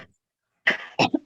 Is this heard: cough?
yes